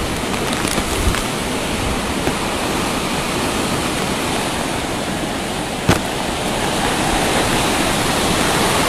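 Typhoon Rolly's wind and rain in Albay make a loud, constant roaring rush with no letup and one sharp crack partway through, and no voices.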